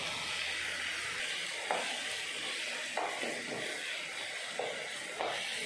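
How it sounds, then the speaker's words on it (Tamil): Onion and tomato sautéing in a pan for kothu parotta: a steady soft sizzle and hiss, broken every second or so by a quick spatula stroke against the pan. "வெங்காயம் தக்காளியை நல்லா வதக்கிடலாம்."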